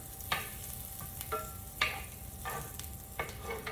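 Butter sizzling in a stir-fry pan for beef and shrimp, a steady quiet crackle broken by several sharp scraping stirs and clinks at irregular intervals, close by with no talking.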